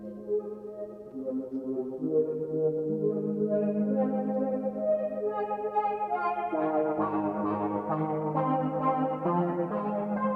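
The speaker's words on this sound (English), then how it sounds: "I like the spring reverb." Moog Grandmother synthesizer notes ring out through a washy, boingy spring reverb, with chords building and shifting under swirling chorus and light distortion, loud and sustained.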